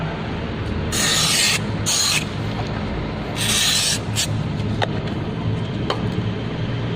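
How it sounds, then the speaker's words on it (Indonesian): Brake cleaner sprayed onto a motorcycle drum brake in several loud, close hissing bursts, two short blasts then another pair, with faint clicks and workshop noise between. "untuk kebersihan kita semprot terlebih dahulu menggunakan brake cleaner secara merata"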